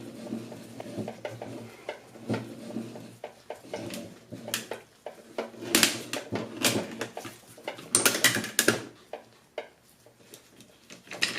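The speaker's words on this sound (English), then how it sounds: "Filter cutter does work pretty good. You just got to go slow to keep it, because you're opening a relatively thin can." A Summit oil filter cutter works slowly around a thin oil filter can, giving irregular metallic clicks, ticks and scrapes that bunch into louder clusters near the end. Nobody speaks.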